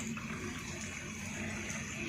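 Heavy rain falls on a rainy day, heard as a steady, low, even rush of water with no breaks, fairly faint and without voices.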